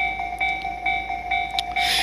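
At a busy Tobu Railway level crossing in Kasukabe, a warning bell rings in a steady, rapid pulse at moderate distance, and a broader rushing train noise swells up at the very end.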